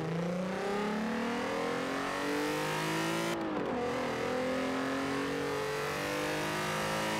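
A car cruising down the motorway in Forza Horizon 4: a loud, steady engine drone climbs through the gears with one quick shift midway, close and continuous, no talking.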